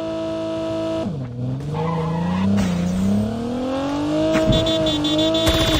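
Car in the Call of Duty Mobile video game speeding and skidding, tires squealing in a long sweeping screech as the engine revs and climbs in pitch, loud and close over a steady game-sound bed.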